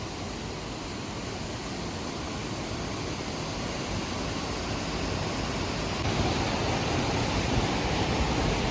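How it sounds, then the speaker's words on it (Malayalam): Water in a stream rushes in a steady, dense wash that stays constant and fairly close throughout, with no voices. "ഈ അരുവിയിലെ വെള്ളം ഇങ്ങനെ ഒഴുകിപ്പോകുന്നത് വളരെ നല്ല രീതിയിൽ നമുക്ക് കാണാം"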